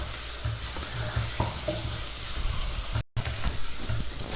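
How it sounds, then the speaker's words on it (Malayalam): Tomato sizzles and fries in a pan on a medium flame, a steady close hiss broken by the scrape and clatter of stirring, with no talk. "ഈ മീഡിയം ഫ്ലെയിമിൽ തന്നെ കിടന്ന് ടൊമാറ്റോ നന്നായിട്ട് വഴണ്ട് വെന്ത് കിട്ടണം."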